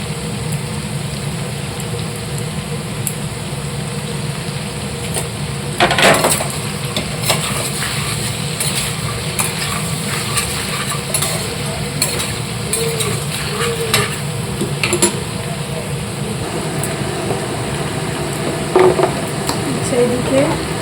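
Onion being fried in a pan with oil for a home-cooked Bengali chicken stew, giving a steady hiss with occasional louder stirring scrapes and clatters, close by.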